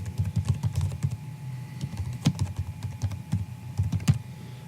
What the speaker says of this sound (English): You can type in this information.